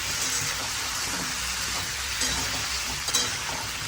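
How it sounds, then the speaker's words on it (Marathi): Pieces of pomfret, brinjal and potato stir-fried in a pan, a steady close sizzle with soft scraping throughout and a small clink near the end, no voices. "आपण चांगले परतून घेऊया।"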